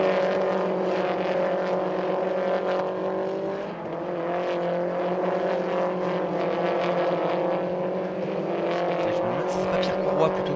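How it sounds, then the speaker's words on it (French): Race cars holding a dense, continuous engine drone throughout an overtaking move on a mountain circuit, engine tones steady with slight shifts, a commentator's voice running over the top. "On suit le dépassement sur Stéphane Ventaja."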